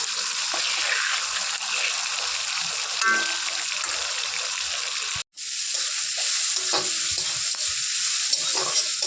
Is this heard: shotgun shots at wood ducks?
no